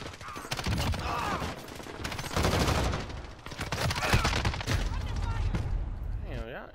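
Bursts of MG5 machine gun fire in the video game Modern Warfare, loud and dense over a steady game soundscape, with someone talking over it.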